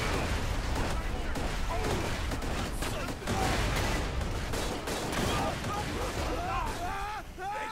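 Dense, continuous bursts of grenade explosions and gunfire from Borderlands 2 fill the whole stretch, loud and chaotic with overlapping blasts; a player talks over the noise.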